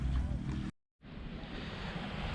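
Sea waves wash onto a beach in Indonesia. Loud wind and surf noise is cut by a brief silent gap, then a steady roar of breaking water and wind buffeting the microphone returns.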